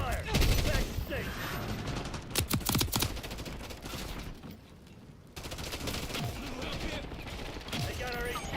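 Bursts of video game gunfire from a multiplayer match with a high-value target, rapid loud volleys and scattered shots fading in and out over steady background noise.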